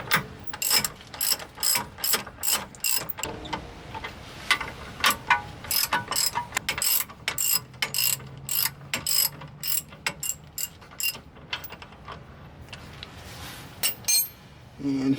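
Ratchet wrench loosening 22 mm brake caliper bracket bolts on a Nissan 350z, rapid close clicking in repeated bursts with brief pauses, a faint metallic clink between strokes.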